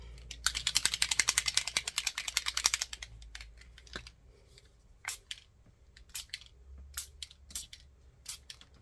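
A burst of rapid, rhythmic hissing sprays of ink from spray bottles in quick succession, followed by a few separate short spritzes spaced apart.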